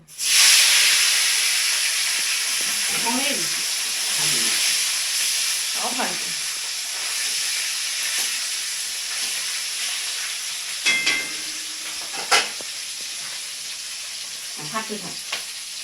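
Golsa tangra fish frying in hot oil, a loud steady sizzle that begins abruptly and holds throughout, with faint voices murmuring briefly in the background and a few sharp clinks near the end.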